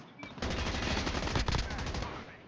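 Automatic gunfire in an online multiplayer shooter: a rapid, continuous rattle of shots lasting about two seconds, loud and close, ending with a fading tail.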